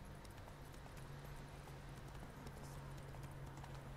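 Geralt's horse Roach gallops in The Witcher 3, a faint, steady run of hoofbeats in quiet surroundings with no voices.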